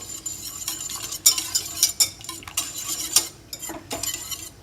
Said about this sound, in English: And just give it a little stir.